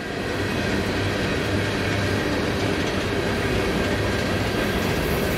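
A freight train of hopper cars rumbles steadily past nearby in the San Bernardino area, California, a continuous heavy roar with faint rhythmic clatter of wheels, no voices.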